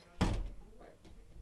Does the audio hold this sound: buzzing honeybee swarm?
no